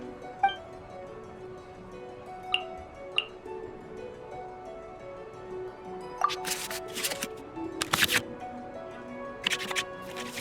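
Digital cards shuffle back into the draw pile in the Genshin Impact Genius Invocation card game. A few soft ticks come first, then clustered swishing shuffle bursts over faint steady game music.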